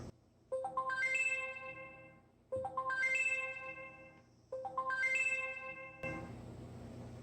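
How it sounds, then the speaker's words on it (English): A smartphone ringtone, set off from a Wyze smart watch, plays three times in a row as a bright rising melodic chime, each phrase separated by a short pause, followed by a burst of noisy rustle. "And this rings your phone in case you can't find it."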